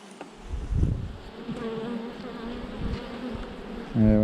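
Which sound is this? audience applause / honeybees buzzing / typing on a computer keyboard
honeybees buzzing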